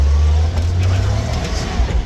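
A G60 Nissan Patrol, rusty and old, drives along an off-road track. Its engine gives a steady, loud, low rumble that runs continuously and close up.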